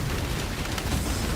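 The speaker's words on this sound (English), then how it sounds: "Explosions." Dense rumbling explosions in the Path of Exile game, a continuous loud wash of booming blasts with no pauses.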